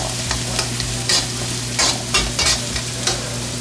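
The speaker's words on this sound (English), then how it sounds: "let this fry a little bit so we could get the flavor out of the onion" Onion and red pepper frying in a pan, a steady loud sizzle with intermittent stirring scrapes and clatters, no talking.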